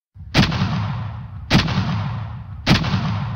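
Three loud gunshots ring out in a game, evenly spaced about a second apart, each a sharp crack followed by a booming decay.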